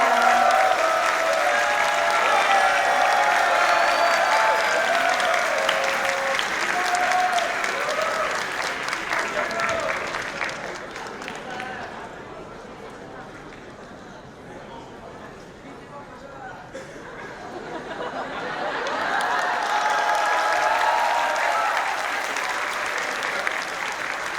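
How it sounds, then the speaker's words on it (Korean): A hall audience applauds an award winner at a Korean speaking contest for foreigners, with loud sustained clapping that dips partway through and then swells again. "다시 한번 큰 박수 부탁드리겠습니다"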